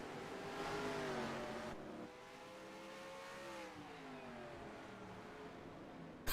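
Race trucks racing at Martinsville in a racing video game, a continuous layered engine drone with shifting pitch as several trucks rev and lift around the short track, steady and fairly quiet throughout.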